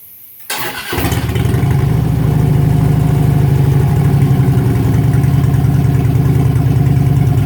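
A Harley-Davidson 103 Street Glide running stock pipes with the baffles removed and the catalytic converter still fitted cranks and fires up, then settles into a loud, deep, loping idle close by with no talking.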